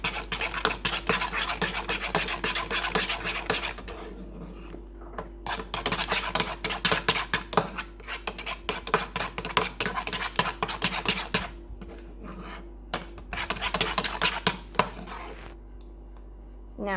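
A spoon scrapes and clinks steadily around a mug as a pizza mixture is stirred, in repeated rhythmic bursts with short pauses over a low constant hum.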